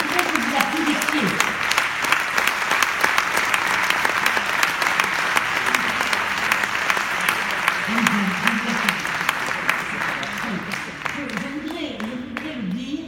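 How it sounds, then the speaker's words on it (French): Steady, loud applause from a large crowd fills the whole stretch, with brief voices heard underneath and the clapping fading slightly near the end. "Je voudrais que vous l'applaudissiez."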